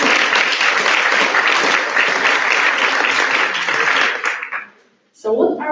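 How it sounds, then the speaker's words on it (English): Loud, dense audience applause at a veterinary students' symposium general assembly in Morocco, sustained for about four seconds before fading out, followed by a short burst of sound after a brief gap. "big clap for them."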